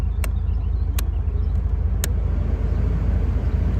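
Cabin AC fan of a 1991 Alfa Romeo Spider Veloce set on its 3-speed blower, a steady whooshing hum over a low idle rumble, with three sharp clicks early on.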